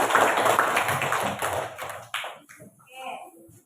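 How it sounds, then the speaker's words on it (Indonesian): A short burst of classroom applause for a student group, a mass of quick claps that fades out after about two seconds, followed by a teacher speaking. "kita berikan aplaus dulu untuk kelompok 1"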